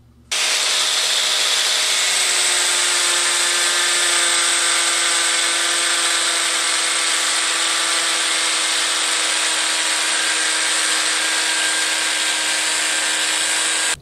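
A worn rotary grinder runs continuously on metal with a loud, steady high-pitched whine and a constant tonal hum, unbroken for the whole stretch.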